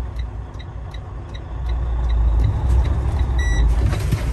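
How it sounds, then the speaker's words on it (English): A tractor-trailer idles with a heavy low engine rumble that swells as the rig tugs against its trailer brakes, accompanied by steady rhythmic beeping and a brief high hiss near the end; no one speaks. "I'm going to tug three times to make sure that my trailer brakes are working and that my tractor and trailer are securely connected."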